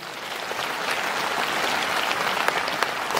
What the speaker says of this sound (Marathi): आता हात वर करून जोरात टाळ्या वाजवूया